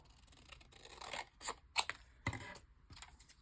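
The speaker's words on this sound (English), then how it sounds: "just cut a strip here" Scissors snip through a strip of paper cut from junk-journal kit scraps, a few short crisp cuts and rustles spaced out, close and fairly quiet.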